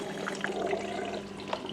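Water runs steadily through the opened inlet valves of a Beko washing machine in diagnostic mode, a continuous close hiss of filling water with faint mechanical clicks over the whole stretch.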